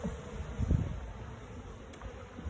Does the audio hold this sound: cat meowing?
no